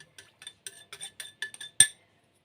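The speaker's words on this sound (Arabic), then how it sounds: "هنا غادي نديرو 2 معالق عامرين ديال السكر" Metal spoons clink sharply against a bowl while sugar goes in, about a dozen light taps and scrapes in an irregular rhythm, close and clear, ending in one louder knock.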